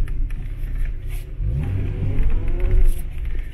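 A 1993 Mazda MX-6 coupe with manual gearbox and new catalytic converter revs its engine close by, a rising rumbling drone that builds toward the end.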